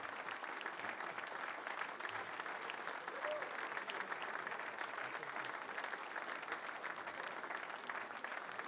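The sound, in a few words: audience applause for carnival winners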